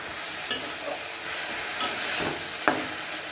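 Drumstick greens fry with grated coconut in a pan, giving a steady close sizzle while a spoon stirs them, with a few sharp scraping clicks spread across the clip.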